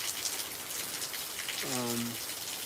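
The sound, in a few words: rain falling, heard from a front porch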